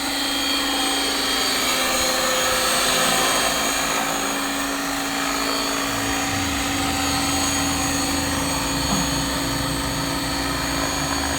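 A remote-controlled UH1N 212 helicopter, a 500-size model flown in GPS mode, whines and buzzes loudly and steadily up close, its rotor and motor drone continuing without a break.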